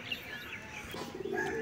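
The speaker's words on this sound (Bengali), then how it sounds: "তো বন্ধুরা এখানে সব পায়রা বসে আছে।" Pigeons perched nearby give soft, low coos mixed with a few faint chirps, quiet and brief, with no talking.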